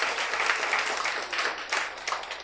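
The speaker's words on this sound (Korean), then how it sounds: "격려의 박수 부탁드립니다" An audience claps in encouragement at an inspirational talk, producing a dense, steady wash of applause that stays fairly loud for the whole stretch with no voices over it.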